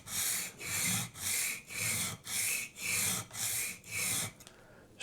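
A knife sharpened by hand on a diamond stone makes about eight close, evenly spaced rasping strokes in a steady back-and-forth rhythm, then stops briefly. No one talks.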